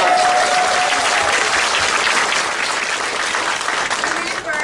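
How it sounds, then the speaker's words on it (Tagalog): An audience at a company orientation applauds loudly, a dense wash of clapping from a crowd that continues throughout, with voices mixed into the noise. "Pasampo lang niyo ako ng malakas sa palakpak"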